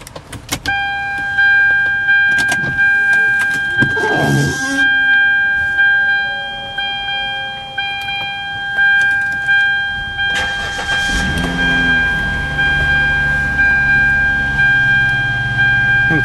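A 121,000-mile Hyundai Sonata with tan leather: steady electronic chime tones ring for several seconds, then the engine cranks and catches with a loud burst before settling into a smooth, close idle.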